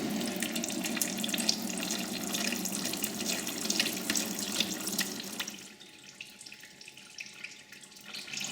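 Transmission fluid drains steadily from the pan of a Dodge Grand Caravan with a 3.6 V6, a continuous close splashing pour that thins and softens to a lighter trickle near the end.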